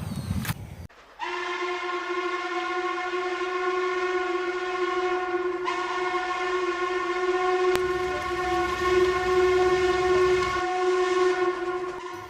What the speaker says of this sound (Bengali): ট্রেনে সেই পুরানো হুইসেল যেন এখনো বেজেই চলেছে।